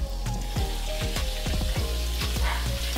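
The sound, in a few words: chicken frying in a pan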